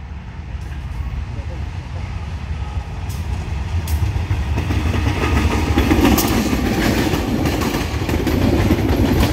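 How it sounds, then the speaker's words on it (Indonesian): A Pasundan passenger train rolls past a level crossing, its wheels clattering steadily and growing louder as it nears, with a continuous rumble of railcars. "kereta api Pasundan."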